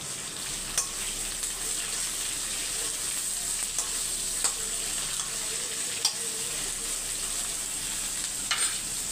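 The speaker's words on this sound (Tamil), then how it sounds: "தோலையும் சேர்த்து நல்லா வதக்கிக்கோங்க." Ridge gourd peels are sautéed with salt in a pan: a steady, close hiss of frying with a few faint scrapes and clicks of stirring scattered through, and no talking.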